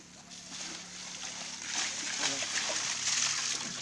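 Water splashes and sloshes during an outdoor bath at home in the Philippines, repeated close splashes and pouring that grow busier toward the end, with voices faintly in the background.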